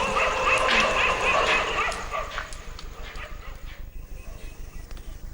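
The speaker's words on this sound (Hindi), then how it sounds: "शहर के कुत्तों ने शोर मचाकर इंसानों को भी खतरे से आगाह कर दिया" Several dogs bark and yip in a noisy, busy burst that fades into softer rhythmic yelps and whimpers toward the end.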